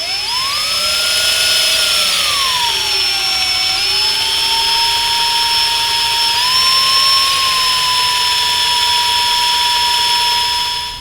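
A power drill boring through a hard steel motorcycle bolt to take safety wire, a loud steady high-pitched whine that sags in pitch under load and then holds level, running continuously with no talk.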